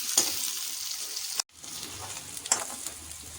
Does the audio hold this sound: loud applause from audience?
no